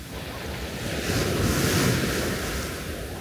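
Sea waves wash steadily onto a beach, a continuous surf roar that swells slightly toward the middle, with wind buffeting the microphone and no voices.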